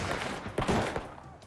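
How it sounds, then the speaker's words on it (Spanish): Gunfire in a shootout between officers and kidnapping suspects around their car, heard as a few sharp, fairly faint reports scattered over a short stretch with no talking. "Mientras continuaban los disparos"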